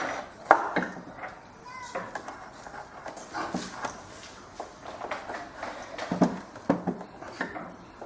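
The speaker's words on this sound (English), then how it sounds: "I'm getting Stanley knife, just marking like that." Stanley knife scoring and cutting a wooden arrow shaft at an arrow-making display, a series of short, close dry scrapes and taps in an irregular rhythm, with faint talk now and then.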